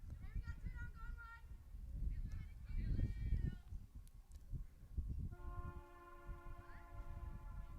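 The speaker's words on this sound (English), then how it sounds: "The 5:15 train rolling through, Ryan, right there." A passing train sounds its horn in long sustained blasts near a softball game, with a sportscaster talking over the rumble and honking throughout.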